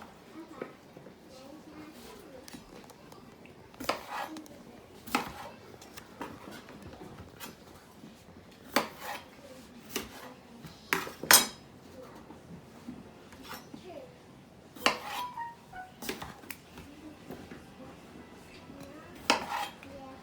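Knife cuts through wedges for a homemade beef stew, sounding as scattered sharp clicks and taps on a board and dish at an irregular pace, under near-constant talk.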